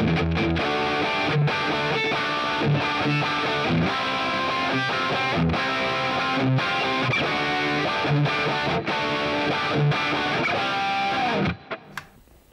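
Electric guitar played through the overdrive channel of a NUX Mighty Plug MP-2 headphone amp with digital delay, hall reverb and a noise gate, giving a steady crunchy riff that stays loud and full before cutting off near the end.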